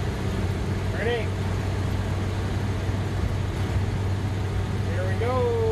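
1966 Dodge D200 3/4-ton Sweptline pickup cruising on a road, a constant low engine drone and road rumble heard from the cab, with someone talking briefly over it.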